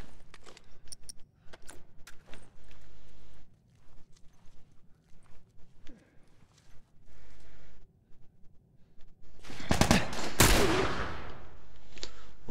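Gunshots from The Last of Us Remastered, a few sharp isolated cracks early on, then a loud dense burst of firing near the end, with footstep-like shuffles between.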